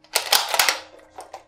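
Dry-fire of an unloaded Yugoslavian copy rifle: a close, crisp cluster of sharp metallic clicks and mechanical clacks, followed by a few fainter isolated clicks, with no voices.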